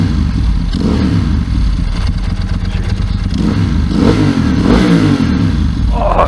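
A 29-year-old Ducati 916 motorcycle engine runs loud and close, rumbling and clattering, with throttle blips rising into revs toward the end.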